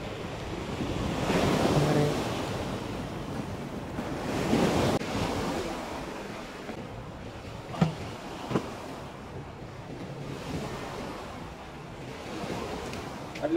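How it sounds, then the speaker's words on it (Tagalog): Surf rolls onto a seashore as a storm approaches, with swelling and receding waves over gusty wind buffeting the microphone, moderately loud and close, with a couple of brief knocks midway. "Yan na yung alon guys, nagsimula na."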